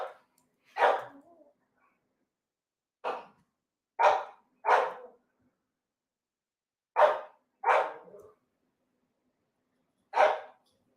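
Close, loud barking from a single dog comes in irregular bursts of single and paired barks, separated by stretches of silence, with no talk.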